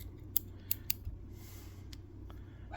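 Scissors trimming excess material while building a fly, a few sharp, faint snips spaced apart over a quiet background hum.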